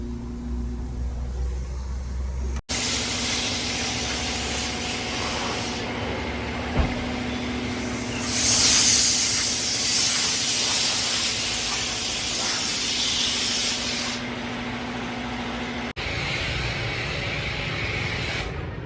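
A car is washed with a pressurised water spray at a service centre, the spray switching on in long loud hissing bursts with abrupt stops and a brief knock between them, over a low mechanical hum.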